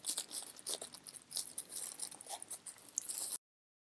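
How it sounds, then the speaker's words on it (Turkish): Crinkly plastic packaging bag is torn open by hand while unboxing an Aden Z4 EIS drone; quiet, close rustling and tearing for about three seconds, then silence. "Şimdi hemen hazır elime bunu almışken bu poşeti açalım. Yırtıldı."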